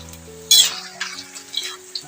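Tomato snack frying in hot oil on a low flame while being stirred, with a sharp sizzling burst followed by softer bubbling and scraping stirs, close and clear.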